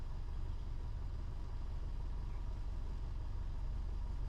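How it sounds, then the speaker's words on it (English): Airliner jet engines idle on an airport apron as a steady, even drone that stays continuous and unchanging in the background throughout. "The engines are all just in the background"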